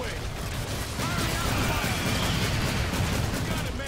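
Shotgun blasts in the video game Evolve Stage 2 during a hunt match: dense, loud, overlapping bursts of rapid fire with crashing impacts, filling the whole stretch without pause.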